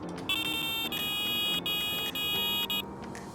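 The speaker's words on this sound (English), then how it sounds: "movements there cause the alarm to go into meltdown." A Wolf Q2 carp fishing bite alarm shrills in a rapid run of loud electronic buzzing tones, broken by brief gaps. It sounds close and insistent for nearly three seconds before cutting out, with no voices over it.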